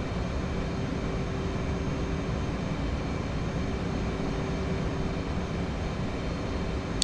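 An F/A-18 jet on a ferry flight in the DCS flight simulator, a steady, even engine drone and airflow rush that holds unchanged throughout with no talk.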